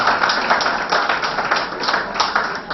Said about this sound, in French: Applaudissez une fois encore pour Madame Ariette Vivant.